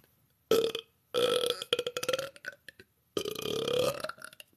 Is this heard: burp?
yes